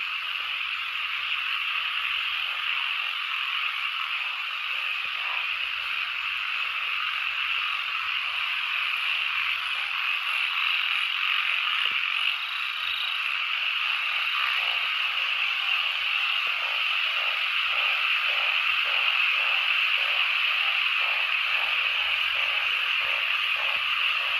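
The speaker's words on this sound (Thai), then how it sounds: "โอ้กบก็ร้องอึงก็ร้อง เสียงกบเสียงเขียดเสียงอึง" Frogs and narrow-mouthed frogs calling in a forest at night, a dense, continuous chorus of overlapping trills and croaks, steady and loud throughout with no pauses.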